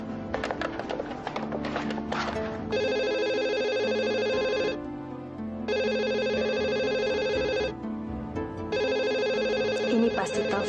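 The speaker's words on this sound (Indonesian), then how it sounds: "Ini pasti telepon dari Adrian" A telephone rings loudly in three long, steady electronic bursts separated by brief pauses, with some clattering noise at the start.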